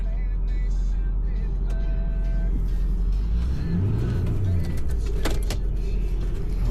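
Farm vehicle idling and pulling through a gate on a calf-feeding farm, a steady low engine rumble close by with brief clicks and rattles, voices faintly around it.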